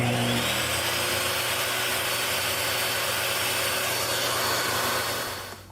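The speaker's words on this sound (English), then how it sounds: "There was no trouble at all with a 15 amp table saw that surged to over 2500 watts at startup." A 15 amp table saw runs on a portable solar power station, giving a steady, loud motor whine and hum that lasts several seconds and winds down slightly at the end.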